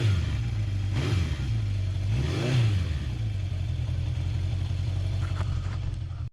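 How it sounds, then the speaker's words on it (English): A 1973 Honda CB750 motorcycle runs close by, its steady engine drone holding low with a couple of brief revs rising and falling, loud throughout with no talking. "It's my turn for riding. I get to ride the CB back home."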